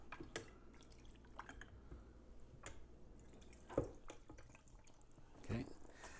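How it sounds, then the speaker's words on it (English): A bottle sanitizer pump sprays water up inside a wine bottle, giving a few sharp splashy spurts and dripping patters, close and fairly quiet, between stretches of soft trickling. "So I push down, it shoots the water up inside the bottle, and it rains down along the outer edges."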